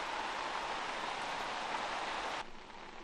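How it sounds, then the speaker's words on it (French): Steady rain on a tent in a remote Savoie valley, a dense even hiss that holds at the same level, then drops slightly softer near the end, with no voices. "Bon là il commence à vraiment pleuvoir"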